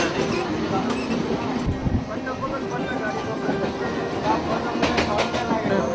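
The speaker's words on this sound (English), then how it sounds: "The train starts." A Mumbai suburban commuter train pulls away and runs along the line with a steady rumbling roar and faint rail clatter, a busy crowd murmuring throughout.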